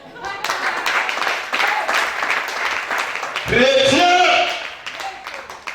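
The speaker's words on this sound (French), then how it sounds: "Acclame bien." Audience applause at a gathering led by a prophet: steady, dense clapping that fills the whole stretch, with a voice speaking and briefly chanting over it.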